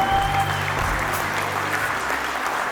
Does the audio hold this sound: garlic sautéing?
no